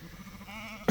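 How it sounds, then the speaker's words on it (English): A sheep calls out for its lamb, a single drawn-out wavering bleat heard fairly close, ending abruptly. "that sheep was calling for a lamb"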